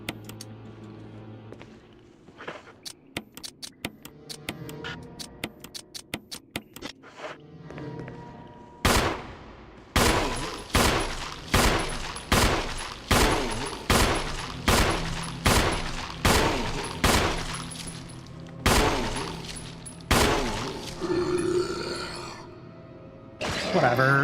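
Gunfire in the Resident Evil remake video game, starting as a quick fainter rattle and then becoming a string of loud, evenly spaced single shots fired about once a second.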